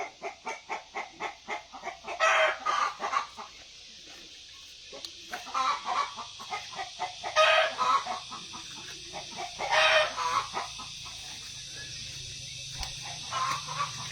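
Laying hens cluck repeatedly in a farm setting, a rhythmic series of nearby clucks with several louder drawn-out calls rising over them, no talking.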